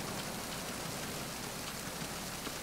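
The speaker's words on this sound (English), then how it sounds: "I wonder how much processing power it took to make the PS2 do this rain" Heavy rain and water splashes in Metal Gear Solid 2 on PS2: a dense, constant downpour hiss that stays loud and even throughout, with no voices.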